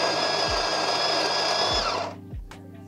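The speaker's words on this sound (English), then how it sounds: "I'm just going to put the portafilter in without the funnel on, just so that I can grind and change." A DeLonghi La Specialista Arte Evo espresso machine's built-in burr grinder grinds coffee into a portafilter with a steady, loud whirring drone for about two seconds, then cuts out, leaving a few soft clicks and knocks.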